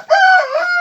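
A rooster at a poultry farm in Chakwal gives one loud, close, drawn-out call of under a second.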